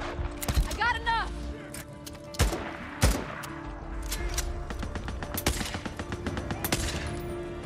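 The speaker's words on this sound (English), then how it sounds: "that was a really big gun" Gunfire from a big gun in the video game Days Gone: a heavy shot at the start, then rapid repeated firing and several loud single blasts, with players talking over the action.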